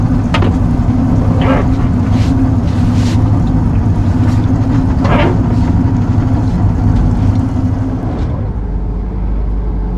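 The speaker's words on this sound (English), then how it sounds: "Put the boat into reverse." A Nordhavn 55 motor yacht's engine runs in reverse with a steady, loud low drone and a rumble of churning water. Voices speak briefly over it, and the engine note drops near the end.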